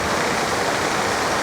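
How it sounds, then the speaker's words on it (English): Steady rain drumming on a roof, a dense, even wash of noise from start to finish with no breaks or voices. "and of course you'll hear the rain on the roof"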